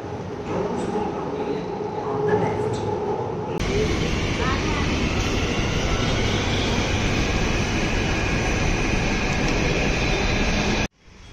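Riding a Hyderabad metro train on the line toward Gachibowli, a loud steady rumble and whine of the carriage in motion that fills the interior, with a rising tonal hum after a few seconds and an abrupt drop near the end.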